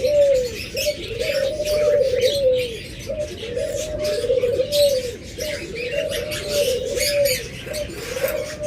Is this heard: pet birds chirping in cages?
yes